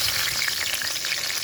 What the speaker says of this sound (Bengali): এবার আমি ফোড়নের জন্য এখানে দিয়ে দিচ্ছি 4টে তেজপাতা